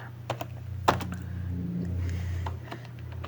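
Keys tapped on a computer keyboard to enter a directory command in a Linux terminal, a few sparse clicks with one sharper tap over a low steady hum.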